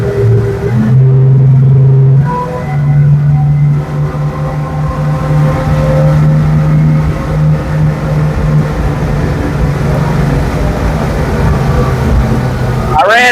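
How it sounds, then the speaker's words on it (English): An LX9 boat's engine rumbles loudly and steadily and climbs in pitch as it revs up on the water, droning on for many seconds with wind and hull noise around it. "We'll rev her up."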